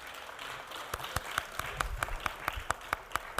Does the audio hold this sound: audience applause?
yes